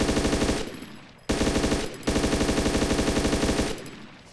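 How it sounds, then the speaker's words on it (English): Rapid automatic gunfire in the DayZ Origins survival game: two long, loud bursts of evenly spaced shots, broken by a short gap and tailing off at the end, with no talking. "Somehow, even though I was firing on him, he managed to shoot and take shots at Sam"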